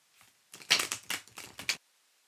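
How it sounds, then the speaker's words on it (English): A tarot card deck is shuffled in a few quick riffling bursts, close and fairly quiet, alone with no talk. "We'll shuffle it one more time."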